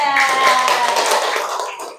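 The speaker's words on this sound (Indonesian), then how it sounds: "Berikan tepuk tangan untuk kelompok 3" Classroom applause for a student group, a dense burst of clapping hands lasting about two seconds at steady loudness, then tapering off at the end, with voices mixed in.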